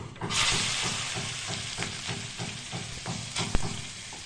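Carrots frying in a pan with a steady close sizzle, overlaid by rhythmic scraping and stirring strokes about twice a second and one sharp knock near the end, with no voices.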